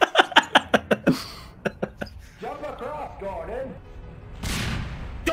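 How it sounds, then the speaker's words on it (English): Rapid, booming grenade explosions from the Half-Life VR: AI video game come in a fast cluster followed by a few more blasts, then garbled game voices and a final rushing burst. "Fucking Coomer just throwing grenades throughout this entire part."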